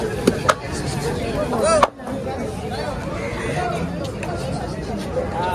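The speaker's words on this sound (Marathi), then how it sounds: "अशा प्रकारे सर्व लिलाव आज गणपतीनंतर दुसऱ्या दिवस असल्यामुळे गर्दी खूप आहे." A crowded fish auction at Malvan, thick with overlapping voices and chatter, with occasional sharp knocks and chopping sounds, and one sudden brief dip in the din.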